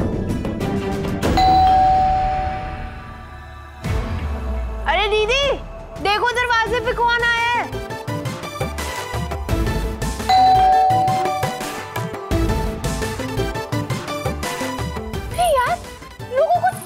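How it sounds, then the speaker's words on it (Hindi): A house doorbell in a Hindi TV drama scene rings with a bright ding-dong chime twice, under and between people talking indoors. "दूसरे के घर की घंटी बजाते रहते।"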